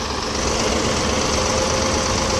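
A 1988 T-150 crawler tractor engine idles steadily at close range, a loud, continuous diesel rumble with a faint knocking texture throughout.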